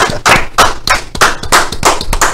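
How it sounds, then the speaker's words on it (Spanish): Several hands clap in a loose, uneven rhythm, close and fairly loud, with no talking. "Fuerte el aplauso."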